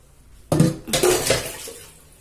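Freshly washed steel dishes and pots clatter and clink in a home kitchen, a sudden loud burst of knocking and ringing metal that settles into lighter jostling, close by with no talking.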